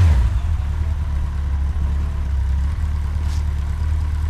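A Yamaha XJ 900 Diversion motorcycle engine idles steadily after a fuel filter change, a low, even rumble held at a constant level throughout.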